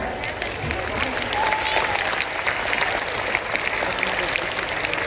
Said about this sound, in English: Clap for the vote of thanks.